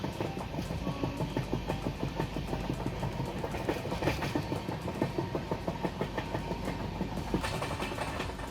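A moving passenger train crossing West Bengal clatters steadily over the rails, with a continuous rumble and rhythmic clickety-clack of the wheels heard from inside the carriage, close and constant throughout.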